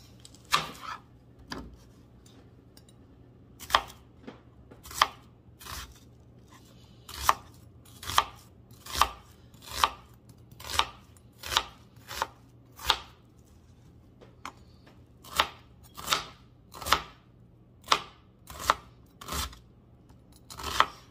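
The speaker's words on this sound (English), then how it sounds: "first thing we're gonna do is we're gonna cut this onion" A knife chops an onion on a board in about two dozen sharp, close strokes, some in quick runs with short pauses between, and no voices.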